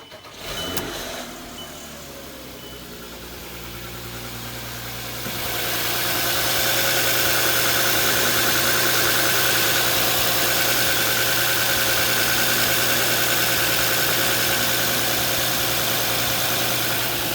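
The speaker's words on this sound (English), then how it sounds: "when it first started up, there was a very loud metallic noise due to a dry start, no oil coating the mechanical components" A car engine cranks and catches, starting with a loud metallic rattle from a dry start with no oil coating the internal parts, then settles into a steady, loud, continuous idle drone.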